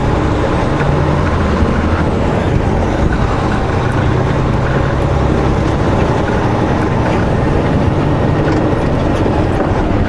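A truck pulling a trailer rolls over a curb while making a right turn at a stop sign, heard as a loud, steady, close rumble of the engine and road noise with no talk.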